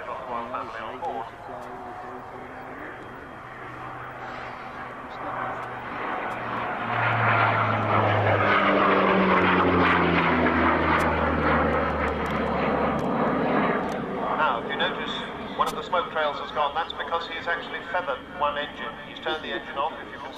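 Propeller transport aircraft passes at an air show, a broad engine drone that swells in the middle and sustains, with a low tonal hum and crowd or commentary sounds under it.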